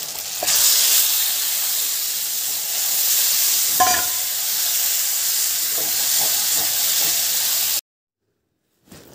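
Taro leaves go into a frying spice paste in a pan, setting off a loud, even hiss with a brief clatter midway, then cutting to silence near the end.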